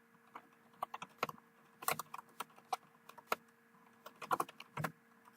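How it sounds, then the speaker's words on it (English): Fast, irregular clicking of computer keyboard keys in bursts of taps while keyword search terms are entered, close and fairly quiet. "basically what I'm doing is I'm just typing in anything I can think of at this point"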